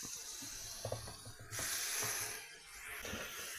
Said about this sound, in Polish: Dobra, no i niech się smaży, co nie?